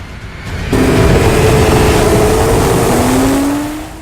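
A sport compact drag race car with a fault revs hard during its burnout, the engine jumping abruptly to a loud, sustained snarl whose pitch wavers and then climbs before easing off.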